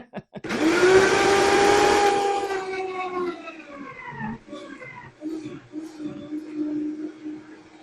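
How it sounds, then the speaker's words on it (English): A blender motor whirs up loudly blending tomatoes for sauce, its pitch rising then settling into a lower churning drone, close by. "And then I just let it blend for a couple of minutes"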